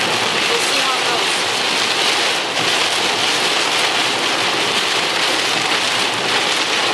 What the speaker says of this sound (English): You see the rain blowing across.